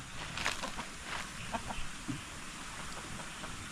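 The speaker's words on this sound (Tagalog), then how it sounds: "Kasama-kasama na rin ating mga manok." Chickens clucking softly in short scattered calls over a steady outdoor background hiss, moderately distant.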